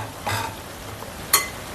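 Vegetables for avial are stirred in a pan, giving two brief scraping strokes a second apart over a soft, quiet cooking background.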